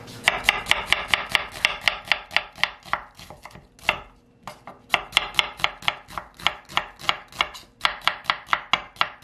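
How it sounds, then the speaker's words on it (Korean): A knife chops onion on a cutting board for a mugwort and onion pancake, fast rhythmic knocks in steady bursts with a brief pause midway. The chopping is close and crisp, and no one speaks. "이렇게 양파를 썰어서 넣어보겠습니다."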